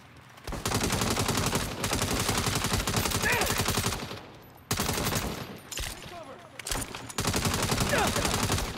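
Gunfire in the video game Saints Row, long rapid rattling bursts of shots, loud and close, broken by short pauses between volleys.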